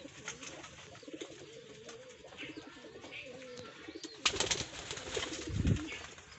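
A red wild pigeon gives soft, low repeated coos close by, with faint chirps in the background and a louder fluttering rustle near the end.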